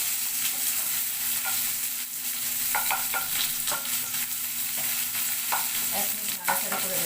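Vegetables and chopped onions with fenugreek seeds frying in hot oil give a steady, loud sizzle, broken by scattered scraping clicks of stirring.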